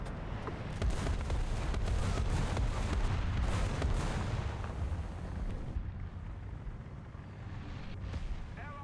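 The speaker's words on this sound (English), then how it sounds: "Artillery barrage on its way." Artillery barrage in War Thunder, a sustained rumble of heavy, overlapping booms and impacts, loudest early and then thinning into scattered distant blasts.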